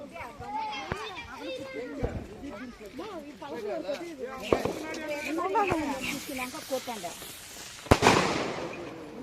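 Firecrackers burst amid loud crowd shouting at a village Maatu Pongal celebration, with sharp cracks near 4.5 and 8 seconds and a hissing fuse spray under the constant talk.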